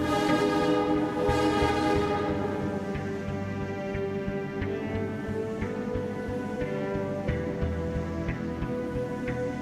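A loud, sustained subway train horn in the game Primordia blares with a deep rumble underneath, fading slightly as steady rail noise continues throughout.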